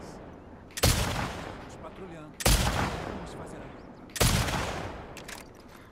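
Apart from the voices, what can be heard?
gunshots in The Last of Us Part 2 video game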